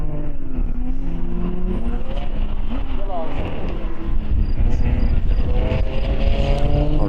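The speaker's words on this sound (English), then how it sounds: "And there's the leading Lambo," A Lamborghini GT race car runs on the BalatonPark circuit during an ESET Cup GT race, its engine rising and falling in pitch as it passes. The roar stays loud and continuous under race commentary.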